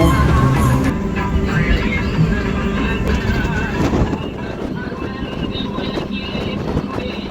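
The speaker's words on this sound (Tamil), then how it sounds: "பின்னால் பார்த்தீங்கன்னா இங்கே குதிரை வண்டியெல்லாம் இருக்குது" Horses with horse carts stand near the Palani Murugan temple. A whinny rises amid heavy wind buffeting and busy outdoor noise, with faint voices in the background.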